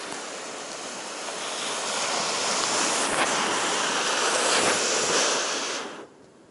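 Sea waves break on the shore beside breakwaters, a loud broad rushing wash swelling through the middle and easing off near the end, with wind buffeting the microphone.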